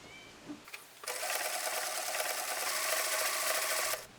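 An Elna 9000 computer sewing machine sews an overlocking stitch, giving a steady, close mechanical whirr for about three seconds after a few brief clicks.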